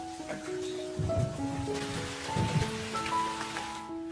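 Steady rain falls at night on surfaces outside a home, a soft continuous patter with faint drips and low tonal background sounds.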